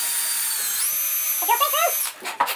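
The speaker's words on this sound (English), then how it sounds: "So we'll drill a hole through here." A power drill whines at a high steady pitch while drilling a hole on an RC car slash repair, rising in pitch partway through and stopping abruptly, with a voice talking briefly over it.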